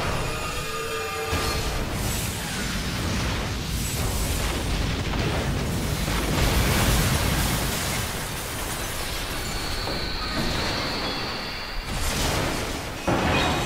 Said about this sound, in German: jetzt kommt ihre eigene Kanone